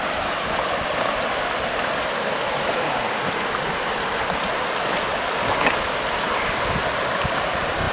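Steady rushing water flows continuously, a broad close wash of sound like a creek running over rocks in the Dolly Sods Wilderness, with no voices.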